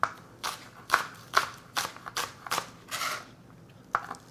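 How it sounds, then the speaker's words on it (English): A knife cuts scallions into rounds on a board, giving about nine crisp, crunchy chops in an uneven rhythm, close and fairly quiet with short gaps between strokes. "you're going to cut rounds like this"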